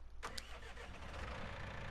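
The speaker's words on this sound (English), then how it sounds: "That sounds like a very nice small size diesel tractor." A John Deere 6M diesel tractor engine in Farming Simulator 19 starts up: a quick starter burst, then the small diesel catches and settles into a steady low idle rumble, heard alone and fairly quiet.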